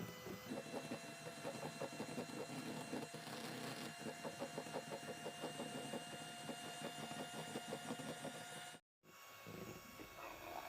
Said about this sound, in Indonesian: Lalu ini kita mixer hingga mengembang putih,